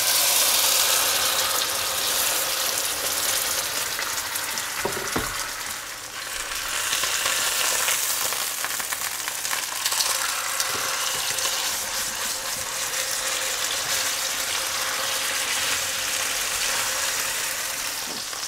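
An entrecôte steak sizzles in a pan, a steady, loud broadband frying hiss with crackles and small pops that runs on without pause and has no talk over it.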